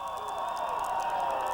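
San Lorenzo Valley hometown fans cheering at a 1998 high school football game against Aptos, a sustained crowd roar with rising excitement near the half, broad and continuous.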